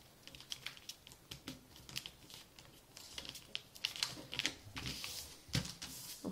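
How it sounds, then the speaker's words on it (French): A square sheet of origami paper being folded and creased by hand: faint, close crisp rustles and sharp crinkling taps come in irregular bursts, with no voices. "On va venir plier le côté ici dans son centre."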